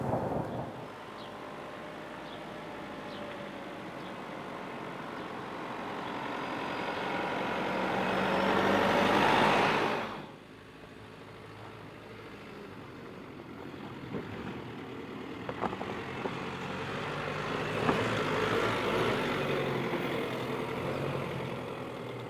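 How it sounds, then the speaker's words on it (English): A Mercedes X-Class 250D bi-turbo diesel pickup with automatic gearbox drives off-road, its engine droning and swelling louder before cutting off sharply, followed by quieter low rumbling and scattered knocks and bumps. "let's go some off-roading with the 250D, the bi-turbo diesel here now"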